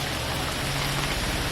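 Rain falls steadily in an outdoor residential sector of Gurugram, a dense, constant hiss of drops hitting surfaces, loud and close throughout the short stretch, with no voices.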